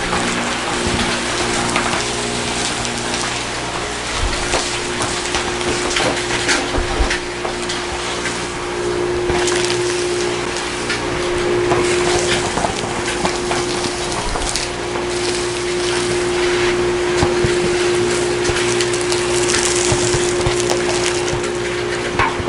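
A steady loud mechanical roar with a constant hum from a dust collector running beside a Norwood HD36 sawmill indoors, like a large machine running nonstop, with scattered wooden knocks and rattles throughout.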